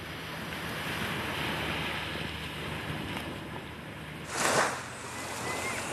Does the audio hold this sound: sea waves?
yes